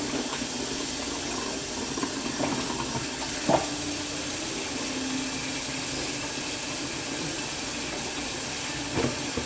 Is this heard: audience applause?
no